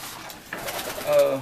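Homing pigeons coo softly in a pigeon loft, a low throaty call rising near the end while a person speaks over it.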